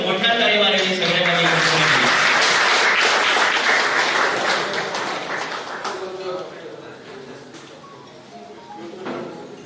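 Students and audience at a felicitation of meritorious students in Fatorda, Goa, clap in a dense burst that slowly thins and fades, with voices talking over it.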